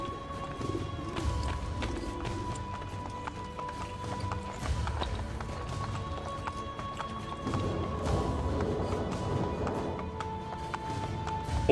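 Horse hooves clip-clop in Assassin's Creed Brotherhood as riders gallop along, a steady running beat mixed with game sounds, occasional crashes and faint voices.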